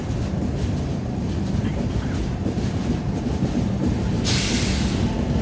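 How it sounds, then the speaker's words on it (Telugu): Tamil Nadu Superfast Express hauled by a WAP 7 electric locomotive passing close by, a loud continuous rumble and rattling clatter of wagons on rails, with a bright hiss rising near the end. "అటు సైడ్ నుంచి బయటకు ట్రైన్ వస్తుంది చూడండి."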